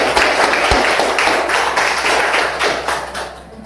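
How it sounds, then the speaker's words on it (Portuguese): Audience applause at a live church service, a burst of steady clapping from a crowd that gradually thins out toward the end. "vamos aplaudir Jesus"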